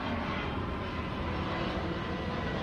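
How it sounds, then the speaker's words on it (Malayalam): A Qatar Airways airplane passes overhead near an outdoor container park, producing a loud, steady, broadband engine roar that holds constant throughout. "വീണ്ടും ഫ്ലൈറ്റ് പോകുന്ന ഇതും ഖത്തർ എയർവേസിൻ്റെ ഫ്ലൈറ്റ് കേട്ടോ."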